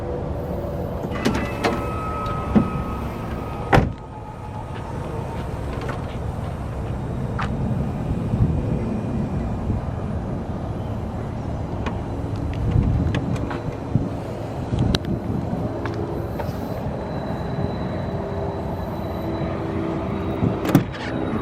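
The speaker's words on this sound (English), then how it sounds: "Show you how this wheelchair ramp works." A Braunability XT wheelchair ramp deploys on a 2021 Toyota Sienna XLE Hybrid conversion van, with a steady low motorized whir running throughout, punctuated by clicks and clunks, and light wind noise in the background.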